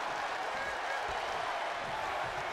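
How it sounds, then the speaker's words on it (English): Loud, steady roar of a packed wrestling crowd at WWE Monday Night RAW, a dense wash of cheering and noise that holds throughout without a break. "when you can't hear yourself think because the crowd's so loud"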